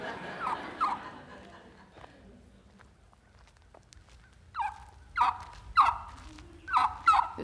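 Several loud wild turkey gobbles burst out in quick succession during the second half, coming after a quieter stretch of faint outdoor background noise and some scuffling.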